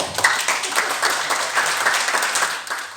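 Applause from a church congregation clapping in praise to God, a dense, steady wash of many hands filling the room for a few seconds.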